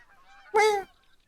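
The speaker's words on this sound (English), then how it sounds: "I hear a bird." A single short goose-like honk from a bird call in the hunting game theHunter: Call of the Wild, clear and fairly close against a quiet background with faint distant calls.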